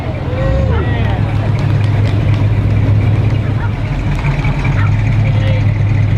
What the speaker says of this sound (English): It's a 69 deuce and a quarter.